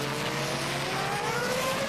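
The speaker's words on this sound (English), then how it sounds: "Can't really tell how that engine's running through this section because it sounds rough as the traction control cuts in" Formula 1 car engine at the 2002 US Grand Prix, running rough through a section as traction control cuts in, a loud continuous buzzing roar with steady rising pitch, no talk over it.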